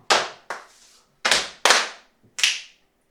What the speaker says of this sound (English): So go double knees, hand rub, then double knees, clap, click